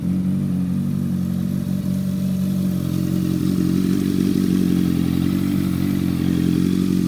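A 2014 Honda CBR650F motorcycle engine idles steadily up close, a loud, even mid-pitched rumble with a light mechanical clatter and no talking.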